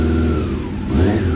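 Honda CB400 Version R motorcycle engine running while warming up after sitting unused, a steady close mid-pitched drone with gentle rises in revs and no talking.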